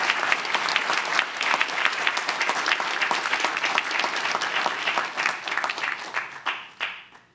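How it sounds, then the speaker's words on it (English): A commencement audience for a graduate analytics class applauds award-winning professors, with dense, sustained clapping from a large crowd that fades out over the final second. "Please let's give a round of applause for our winners this year's award, Professor Anand Bodapati and Professor Peter Rossi."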